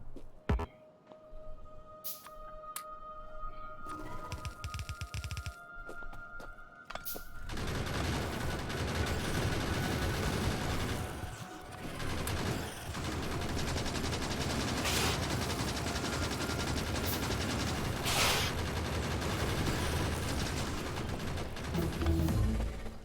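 Turrets in the video game Factorio fire rapid, sustained automatic bursts after a quieter opening, the shooting dense and continuous for most of the stretch.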